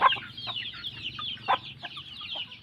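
Chickens cluck in a coop, a busy overlapping run of short nasal clucks and calls from several birds, close and fairly loud, with no talk.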